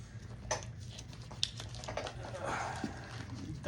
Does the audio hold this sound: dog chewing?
yes